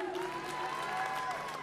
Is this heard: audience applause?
yes